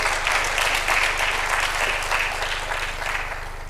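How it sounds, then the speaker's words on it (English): A conference audience gives a round of applause, a loud, dense wave of clapping with faint pulsing swells that gradually tapers off toward the end, with no voices over it. "Can we have a round of applause for all the members?"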